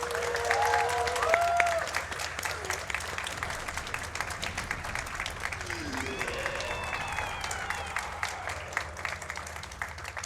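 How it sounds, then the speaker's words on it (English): Audience applause at a live speedrunning marathon event for Jedi Knight: Jedi Academy, a steady crowd clapping that starts loud and continues throughout, with game sounds and a voice briefly audible underneath. "You can clap in a second."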